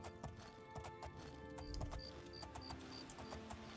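Horse hooves clopping in the video game Oblivion, a quick rhythmic clip-clop of riding over a road, moderately close with game ambience and faint beeping chimes behind.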